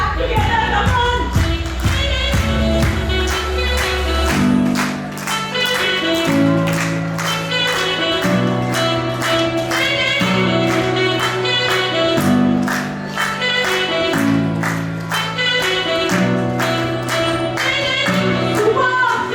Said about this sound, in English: Come on, everyone, clap together